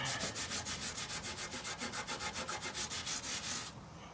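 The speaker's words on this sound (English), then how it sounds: "So we'll just Scotch-Brite it up a little bit, get it roughed up" A Scotch-Brite pad scuffs metal on a 2004-2008 Ford F-150 at the fuel pump driver module area. It makes about seventeen quick, even back-and-forth rasping strokes, close and steady, then stops abruptly.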